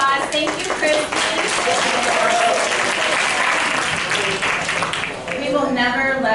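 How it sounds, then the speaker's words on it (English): Sustained audience applause at an event for puppy raising services, dense clapping filling the whole stretch with a few voices faintly mixed in. "Big round of applause."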